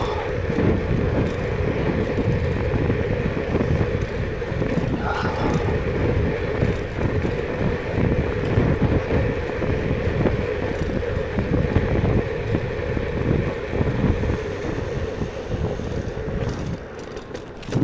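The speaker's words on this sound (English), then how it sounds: "It's 30-kilometer wind tonight." Strong wind of about 30 km/h roars steadily through a ride at night, a constant dense rumble with gusty buffeting across the whole stretch and no break.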